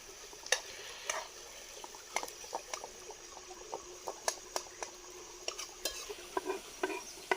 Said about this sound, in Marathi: कांदा थोडासा भाजू देत